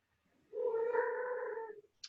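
A cat lets out a long drawn-out yowling meow, loud and close, lasting over a second before fading, followed by a brief sharp noise.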